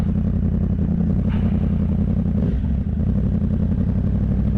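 A 2016 Yamaha R1S sport motorcycle rolls along a dirt road, its engine droning steadily and loud with heavy wind rumble and a couple of brief clattering bumps from the rough surface.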